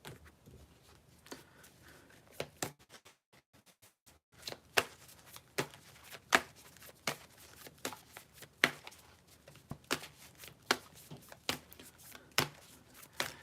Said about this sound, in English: I'm going to shuffle those cards again.